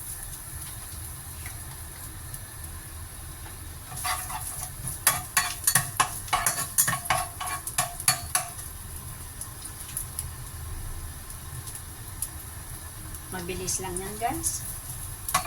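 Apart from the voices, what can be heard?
sautéing ginger in a little oil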